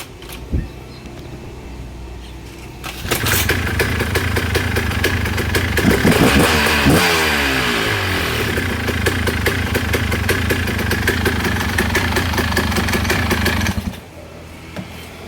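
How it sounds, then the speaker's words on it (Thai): A Thor 200 paramotor engine fires up after a quick tug on its pull start, then runs loud and close at a steady idle with slight rises in revs for about ten seconds before cutting off. "แค่นี้ก็ติดแล้วนะครับเกาะ ไม่ต้องดึงยาว แตะๆก็ติดนะครับ"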